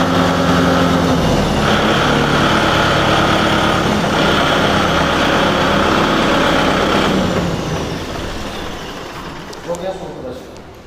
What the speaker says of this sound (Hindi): ट्रैक्टर पर खड़े हैं और ट्रैक्टर का इंजन 1000 RPM पर है